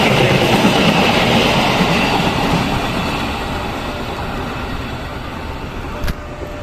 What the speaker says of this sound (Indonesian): Bersilang dengan kereta api berantas menggunakan lokomotif Vintek.